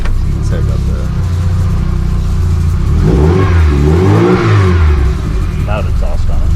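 An old Volkswagen engine with a loud exhaust idles at close range, then revs up and back down in a couple of rising and falling swells, a rough, throaty rumble throughout.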